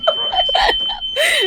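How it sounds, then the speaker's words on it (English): Smoke alarm going off indoors, a loud piercing steady tone with bursts of shrill chirping noise layered over it, close and harsh over about a second and a half. "The smoke alarm's going off."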